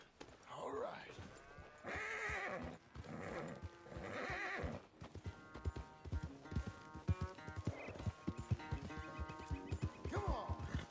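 A horse whinnies in the Red Dead Redemption 2 video game, then its hooves clip-clop in a quick, steady rhythm while being ridden, fairly close and clear.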